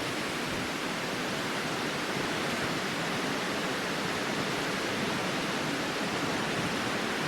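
Wind rushing through trees along the Jinnie Trail on a breezy day, a steady, loud, unbroken roar of leaves and branches with no speech.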